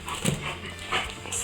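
Dogs in the room bark and whimper in short bursts over a low background hum, fairly close and moderately loud, with no talk.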